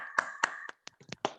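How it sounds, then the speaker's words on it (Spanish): A small audience at a technical talk on analog signal scaling with LOGO! controllers gives scattered applause for a presenter, just a handful of distinct, separated claps in a quiet room. "pedimos un aplauso acá para Víctor"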